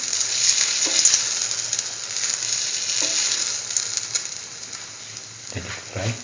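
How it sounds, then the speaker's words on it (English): A chickpea-batter-dipped chayote and potato toast sandwich sizzles in hot oil with a loud, steady crackling fry and occasional bubbling pops and stirring sounds. "dip the sandwich in the oil."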